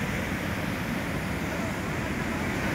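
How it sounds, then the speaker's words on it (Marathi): A hidden waterfall at Parola in Hingoli sends water rushing under high pressure, a loud, unbroken broadband roar that fills the whole moment without letting up. "किती प्रेशरनं पाणी चाललंय बघा"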